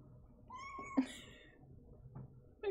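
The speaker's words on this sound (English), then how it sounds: "Can you all hear it meow?" A cat gives a couple of soft, rising meows, one drawn out and another shorter, close by but fairly quiet against a calm indoor background, with a faint voice briefly underneath.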